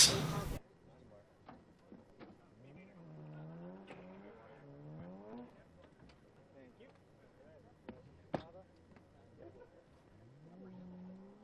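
A drift car at a drift competition at IMI in Colorado swings through a quick Manji with its engine rising and falling in repeated revs. It sounds moderately distant, and a commentator talks over it.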